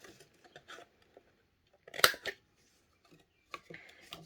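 Scissors snip rounded corners into paper for a junk journal, giving a few short, sparse cuts close by with quiet gaps between them and one louder crisp snip in the middle.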